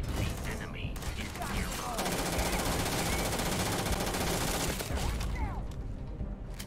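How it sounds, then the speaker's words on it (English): Rapid-firing gun in Starfield, a fast sustained burst of automatic shots with mechanical clatter, loud and close throughout, easing slightly at the very end. "This gun is kind of weak, but it shoots fast"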